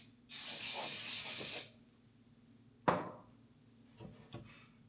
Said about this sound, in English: I'm having here like a non-sticky spray